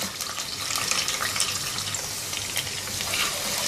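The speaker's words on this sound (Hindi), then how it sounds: "हल्का सुनहरा फ्राई कर लेंगे इस प्याज को।" Chopped onion fries in four tablespoons of hot oil in a pot over medium heat, a steady broadband sizzle and crackle that stays close and fairly loud throughout, with no voices.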